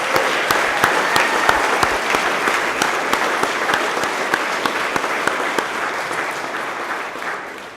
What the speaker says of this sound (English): Please give one more loud round of applause for our outstanding colleagues.